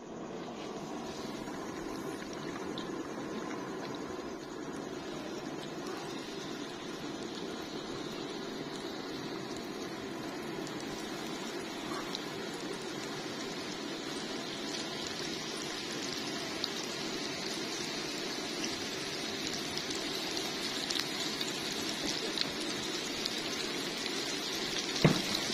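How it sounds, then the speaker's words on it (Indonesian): A steady, crackling sizzle of chicken frying in hot oil continues throughout with no voices, growing slightly busier toward the end. "baru kita masukkan ya, kita goreng."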